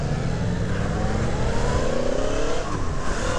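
A Yamaha MT-10 SP motorcycle engine pulls hard under acceleration, a steady loud roar climbing in pitch up close, with no talk over it.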